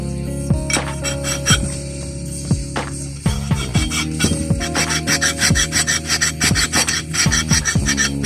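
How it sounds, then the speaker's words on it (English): A hand file is pushed back and forth across a bench vise jaw to flatten it, giving rhythmic raspy metal strokes with faint clinks, close up and steady. "took a file to it, trying to flatten it down here"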